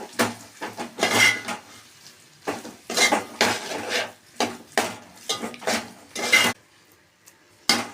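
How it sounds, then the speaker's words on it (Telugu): A spiced curry mixture being stirred in a pan. Loud, close bursts of spoon scraping and metallic rubbing come in uneven strokes separated by short pauses. "ఇప్పుడు ఇదంతా బాగా కలుపుకోవాలి."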